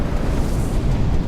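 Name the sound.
glacier ice crashing into the sea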